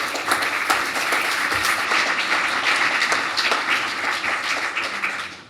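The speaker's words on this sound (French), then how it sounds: "Je crois qu'on peut l'applaudir." Steady applause from a conference audience honoring an association's founder, dense clapping that holds evenly for about five seconds and fades only slightly at the end.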